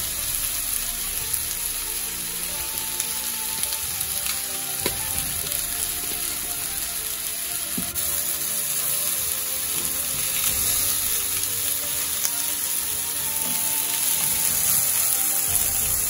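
Salmon seasoned with Red Lobster seafood seasoning fries in a pan in a little oil, crackling and sizzling steadily throughout with occasional soft clicks, and no one speaks.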